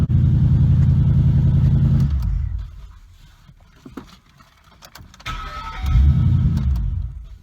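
A 4.6L V8 car engine cranks and catches after a starter replacement, settling into a loud, steady idle before dropping off, then revving again near the microphone.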